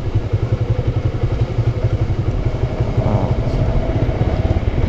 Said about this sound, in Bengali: ইঞ্জিন ব্রেক দিয়ে আস্তে আস্তে নাম।